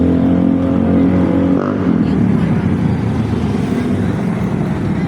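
An L300 van passes on a roadside, its engine drone loud and close before fading into steady traffic rumble, with no talk over it.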